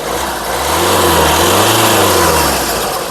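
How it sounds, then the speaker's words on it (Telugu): A 2017 Hyundai Creta S Plus engine revs up and settles back down, a loud continuous roar that swells in the middle and eases off. "ఇంజన్ యొక్క నాయిస్ చాలా అంటే చాలా సైలెంట్గా పర్ఫెక్ట్గా అయితే ఉందండి"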